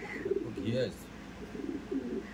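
A Kaldom pigeon gives a few soft, low, throaty coos in short bursts, close by but quiet, with people talking nearby.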